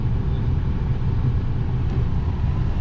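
Ford Focus RS rally car engine droning steadily and loudly from inside the car on a recce lap, with continuous road and drivetrain rumble and no talk.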